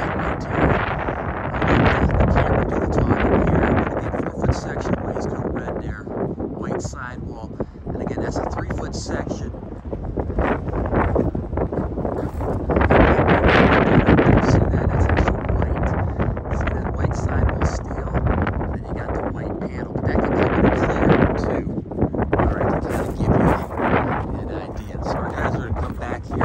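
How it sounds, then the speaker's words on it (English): Strong November wind in Ohio roars continuously across the microphone in heavy gusts at a pole barn, buffeting and rumbling throughout with no break. "really windy right here"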